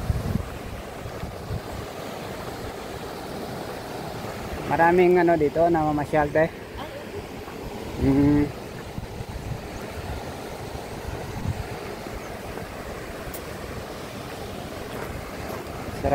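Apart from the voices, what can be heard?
river water flowing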